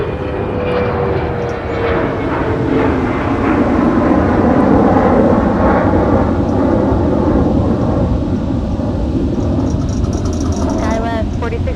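A Delta airliner takes off from Minneapolis–Saint Paul airport bound for Memphis, its loud, broad engine roar swelling and rumbling continuously while air traffic control radio chatter plays over it.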